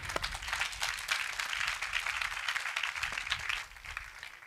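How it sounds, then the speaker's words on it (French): A choir concert audience in a French Christian singing show applauds continuously, a soft, fairly distant wash of clapping that stays even throughout. "Est-ce qu'on peut applaudir?"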